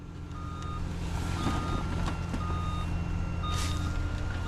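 A truck's reversing alarm beeps steadily and repeatedly over a low, constant engine rumble at a property running landfill, mulch and sand operations, with no one talking.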